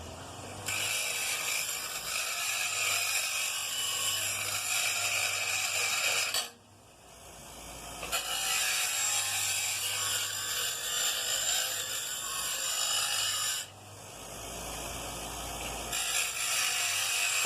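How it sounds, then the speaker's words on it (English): Small handheld grinder sharpening a point on the tip of a homemade dumpster stick, whirring loudly in two long sustained passes with a short drop in between. "Probably going to be here all day with this little bitty grinder"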